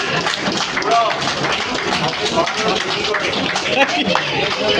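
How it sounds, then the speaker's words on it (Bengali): Loud applause for Mrs. Kabita Roy at a photography exhibition: dense, steady clapping from a crowd fills the whole stretch, with voices mixed in underneath. "মিসেস কবিতা রয় চলে আসুন, জোরে হাততালি একটা"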